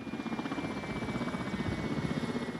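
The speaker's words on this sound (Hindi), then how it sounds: "सोवियत काल के जिस हेलीकॉप्टर में हैं वो भी कुछ इतने ही साल पुराना है" Soviet-era military helicopter, roughly 34 years old, flying in a war zone; a steady, loud rotor chop with rhythmic blade thumps throughout, no voices.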